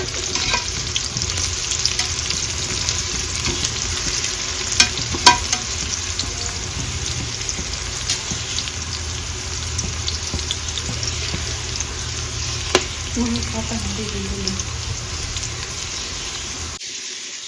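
Onions fry in oil for chicken kabab biryani, a continuous loud sizzle with occasional scrapes and clinks of a spoon stirring the pan, close up, before the sound cuts off abruptly near the end.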